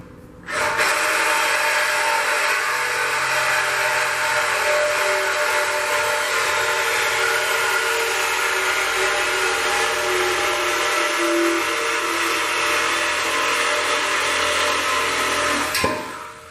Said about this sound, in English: just get yourself a Sawzall. This is a little Milwaukee Hackzall, but anyone will do.